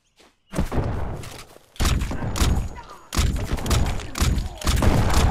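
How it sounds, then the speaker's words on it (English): A survival video game battle fills the clip with loud, continuous bursts of gunfire and booming explosions that overlap in dense, rapid volleys with almost no pause. "I don't know what all those explosions were."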